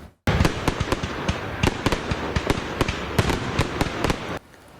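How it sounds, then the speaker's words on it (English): A professional Fourth of July fireworks display bursts in a rapid, irregular string of sharp cracks and pops over a continuous crackle, fairly loud, before cutting off abruptly near the end. "That's the sound of fireworks put on by professionals last night as a way for people to safely celebrate the 4th."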